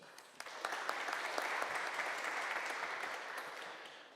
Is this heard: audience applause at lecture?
yes